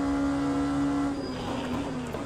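An Oreca 07 LMP2 race car in Le Mans Ultimate drones loudly under braking into a hairpin at Portimao, its steady engine tone dipping slightly as it settles.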